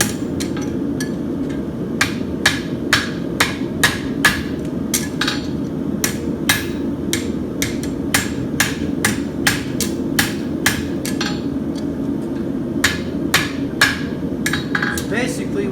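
A blacksmith hammers a steel horseshoe on the horn of an anvil, with sharp ringing strikes coming in steady bursts over a low background rumble.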